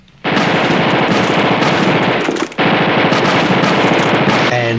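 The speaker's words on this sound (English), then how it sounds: "there's a sad, awful scene where the watermelons get shot up" Sustained machine-gun fire shoots up a watermelon field in the film Mr. Majestyk, loud rapid bursts with a brief pause midway before the firing resumes.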